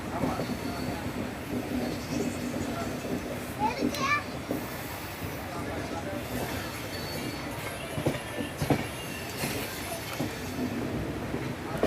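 Tamil Nadu Sampark Kranti superfast express rolling out of Chennai Egmore, heard from inside a sleeper coach as a steady rumble with occasional clicks and clacks of the wheels, with faint voices and children in the background.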